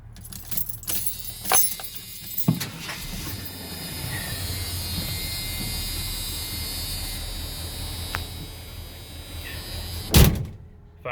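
The original key to a 1986 Ford F250 with a 460ci 7.5L big block jangles on its ring, with clinks early and a loud rattle near the end, while a low steady hum runs through the middle.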